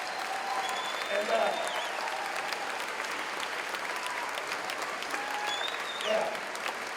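Sustained audience applause honors graduates at a 2016 Batavia, NY commencement, a broad, even clatter of many hands lasting several seconds, dotted with high whistles and occasional cheers.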